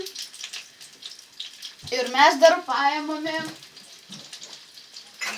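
Koldunai dumplings frying in a pan give off a steady sizzle that runs under a person talking close by.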